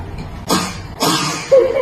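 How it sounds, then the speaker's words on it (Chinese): A boy gives two short, forced fake coughs toward his father, close and fairly loud, followed by a brief voiced sound. "居然跟他爸假咳嗽"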